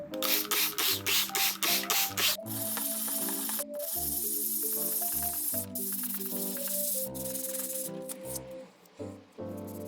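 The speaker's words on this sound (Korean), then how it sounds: "화분이랑 화분 받침들도 다 사포질해서 다듬어 줄게요" Rapid rhythmic rubbing of sandpaper against a small hard cast-resin plant pot, brisk back-and-forth strokes in quick bursts, close up, alongside soft background music.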